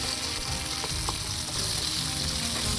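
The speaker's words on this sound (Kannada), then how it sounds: "ಶುಂಠಿ ಕೂಡ ಹಾಕ್ಕೊಂಡು ಚೆನ್ನಾಗಿ ಫ್ರೈ ಮಾಡ್ಕೊತಾ ಇದ್ದೀನಿ." Ginger frying in oil for a sambar base, a steady close sizzle with faint stirring clicks running throughout, no voices.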